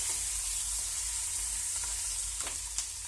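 Chana dal and four or five green chillies frying in hot oil give a steady, close sizzle with a few small crackles and pops near the end, no voices over it.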